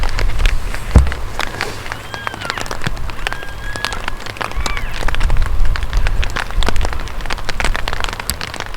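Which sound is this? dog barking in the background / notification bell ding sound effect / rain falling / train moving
rain falling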